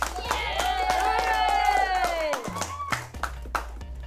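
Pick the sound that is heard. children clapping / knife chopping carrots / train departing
children clapping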